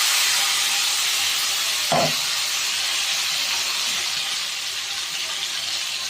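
Blended tomato puree hits hot oil in a pan for a spicy magur catfish curry, a loud, continuous sizzling hiss with a brief knock early on, easing slightly as it settles.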